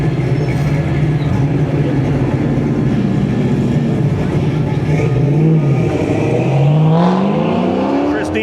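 A 1969 Chevrolet Camaro charges around an autocross course, its V8 engine loud and continuous with rising and falling revs through the turns, a few sharp pitch sweeps near the end as it accelerates out of corners.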